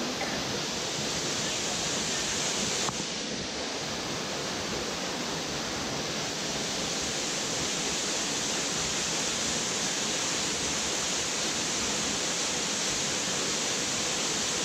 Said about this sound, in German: Hier am Amandalwasserfall